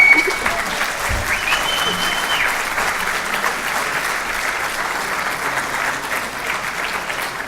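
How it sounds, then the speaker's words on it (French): Audience applause at a French political meeting, a steady dense clapping from a seated crowd that holds at an even level for several seconds, with faint voices mixed in. "Allez, on applaudit encore."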